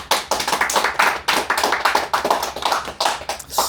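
A small group claps in a podcast studio where a national breaking coach and athletes talk, with quick, sharp, close hand claps in an uneven rhythm and no talk over them.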